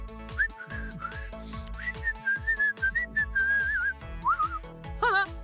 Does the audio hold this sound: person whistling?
yes